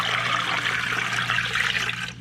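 Cool tap water pours steadily into a canning pot over jars of tomatoes, a continuous close rushing splash that thins out at the end.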